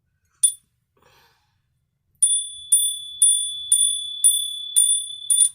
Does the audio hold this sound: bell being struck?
yes